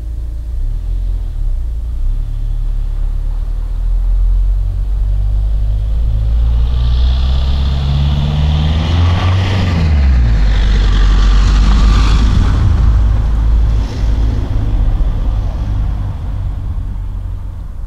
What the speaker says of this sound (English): the truck isn't just driving away, perhaps it's going around a turn or a roundabout